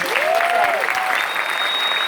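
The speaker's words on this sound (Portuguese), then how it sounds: "Uma salva de palmas pra vocês, gente." Steady applause from a crowd fills the whole stretch, with a few whistles rising above the clapping.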